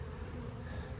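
Honeybees buzz inside an opened hive during a frame inspection, a steady, close, continuous drone with no talking.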